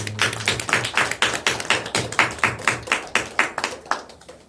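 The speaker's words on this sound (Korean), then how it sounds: "우리 하나님께 영광의 박수." A congregation at a Christmas Wednesday worship service claps for God in a steady rhythm, sharp evenly spaced claps repeating about four times a second at moderate loudness.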